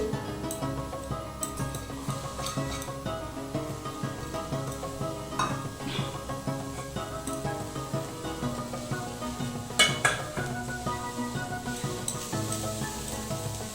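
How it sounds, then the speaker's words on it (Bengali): Grated coconut is stirred in a kadai over a gas stove for a khejur gur dudhpuli filling, with soft scraping and light sizzling under steady background music. "গ্যাসটা অন করে কড়াইটা বসিয়ে দিয়ে আমি নারকেল কুড়োনো দিয়ে দিচ্ছি।"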